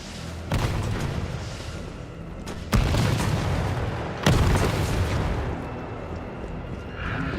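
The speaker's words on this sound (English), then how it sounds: "Rocket launcher? Really?" Rocket launcher blasts in Resident Evil 3, three heavy booming explosions spaced a couple of seconds apart, loud and close, each followed by a rumbling decay over a noisy game backdrop.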